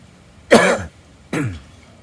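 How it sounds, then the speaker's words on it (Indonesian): Two rough coughs, close and fairly loud, spaced under a second apart with quiet between them. "Saya batuk teman-teman."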